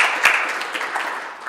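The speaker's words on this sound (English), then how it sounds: "let's give a round of applause to Congresswoman Morella" An audience claps for a former congresswoman visiting Clarkson, giving brisk, lively applause from many hands with a few sharper individual claps standing out, steady and fairly close, with no voices over it.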